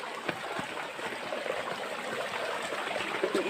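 A jungle stream in the hills flows and gurgles continuously, a close, steady rushing trickle of water with no voices.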